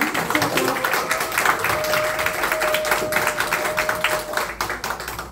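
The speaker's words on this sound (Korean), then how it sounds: "세 분한테 큰 감사의 박수 한번 드려요." Audience clapping at a lecture session in Korea, a sustained dense round of applause from a gathered group lasting several seconds, with faint voices beneath and a thinning at the end.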